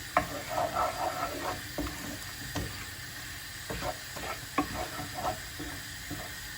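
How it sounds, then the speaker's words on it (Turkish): Vegetables for orman kebabı frying in a pan give off a steady close sizzle, broken by irregular clinks and scrapes of stirring with a utensil. "sebzeleri de bu şekilde pişiriyorum."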